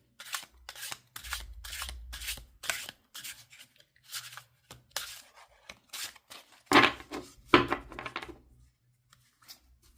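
Crisp riffling and soft slapping of a tarot deck being shuffled by hand, in quick bursts with short pauses, close up and fairly quiet.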